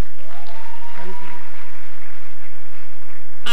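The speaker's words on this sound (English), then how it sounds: "Please give them a round of applause." A crowd applauds at Afe Babalola University's induction ceremony for its pioneer medical doctors. The ovation is loud and sustained, heavily saturated, with a sharp burst right at the end.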